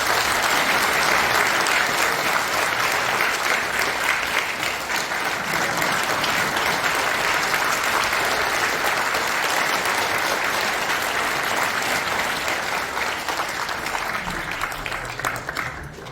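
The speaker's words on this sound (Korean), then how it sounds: "큰 박수 부탁드립니다" A steady, loud round of applause from an audience at a Christian prayer breakfast in a National Assembly conference hall runs unbroken throughout, fading slightly near the end.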